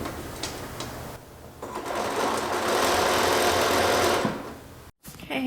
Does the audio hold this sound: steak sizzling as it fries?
no